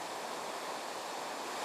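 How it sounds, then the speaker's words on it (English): The River Lune flowing below Lunes Bridge, a once-famous salmon river, as a faint, steady broadband rush of moving water heard from above, with no voices. "So we're looking down into the River Lune"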